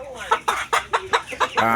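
A chicken clucks in a quick series of sharp, close calls, about seven in under two seconds.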